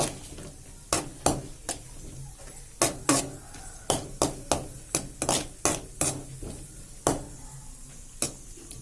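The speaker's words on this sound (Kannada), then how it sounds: "ಗೋಡಂಬಿ ಹುರಿದಾದ್ಮೇಲೆ ದ್ರಾಕ್ಷಿ ಹಾಕೋದು." A metal spoon clinks and scrapes repeatedly as raisins are stirred in hot ghee in a pan after frying cashews. The sharp taps come in an irregular rhythm over a soft, low sizzle.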